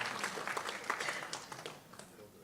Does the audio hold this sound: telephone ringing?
no